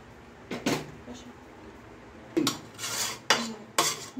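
Chicken pieces are set onto pulao rice in a pot while making biryani, with several sharp clinks and scrapes of a metal utensil against the pot spaced across a few seconds.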